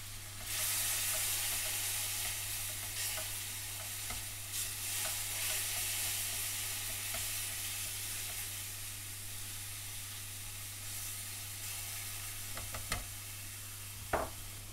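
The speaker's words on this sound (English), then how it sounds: "continue to fry for a further minute" Continuous close sizzling and hissing from curry spice paste frying in a pan, with occasional clinks and scrapes of stirring.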